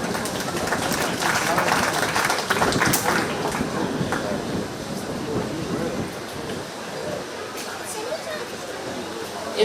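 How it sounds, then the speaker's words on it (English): Spectators at a 4-H cattle show during a county fair give a round of applause, a broad rough clapping that is loudest early and gradually thins, mixed with crowd noise and some talk. "Let's give them a round of applause."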